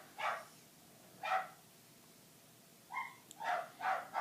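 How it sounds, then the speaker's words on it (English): Dog barking somewhere off to the side indoors, five or so short barks in separate bursts with pauses between, moderately faint, no talking. "I swear that's not even my dog."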